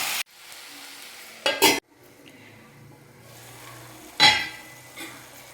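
Onions and tomatoes sautéing in a pan, a low soft sizzle with a few short bursts of utensil scraping and clinks against the pan, near and moderately loud, with no talking.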